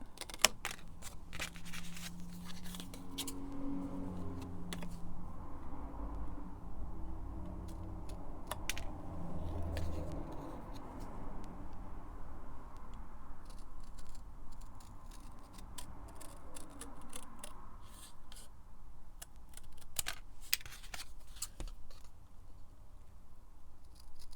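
Scissors cut out altered paper for a paper-clip craft, giving faint, irregular snips and rustles against quiet room noise, spread across the whole stretch.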